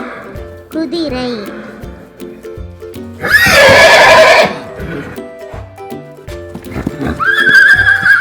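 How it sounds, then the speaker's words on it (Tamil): A horse gives one loud, shrill whinny in the middle, close by, set against light rhythmic background music with a few soft knocking sounds. "குதிரை,"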